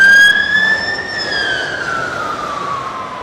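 A Heathrow Fire Service fire engine siren at Heathrow Airport wails in a high tone that slowly falls in pitch, loud and close, with a faint engine rumble beneath and no voices.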